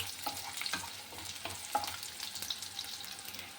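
Onions sauté for a paneer gravy, a steady close sizzle broken by repeated scraping stirs in the pan, with no voices.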